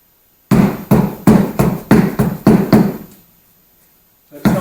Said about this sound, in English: we call this a dead blow hammer